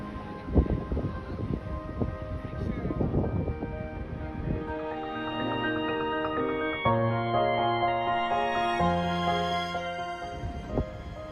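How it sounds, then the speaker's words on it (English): A distant cog railway train climbing Mount Washington, New Hampshire, sounds a series of long, rising whistle tones over gusty mountain wind, after some rumbling and clattering. "There's the Cog Railroad coming up Mount Washington."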